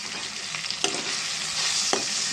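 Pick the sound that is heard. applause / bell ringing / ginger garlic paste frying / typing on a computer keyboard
ginger garlic paste frying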